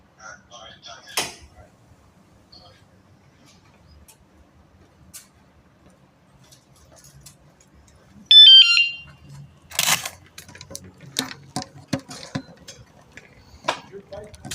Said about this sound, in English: Did your bike make that loud sound? Yeah, it's an anti-theft alarm.